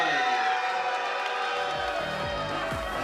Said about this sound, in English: And the crowd at fever pitch for this.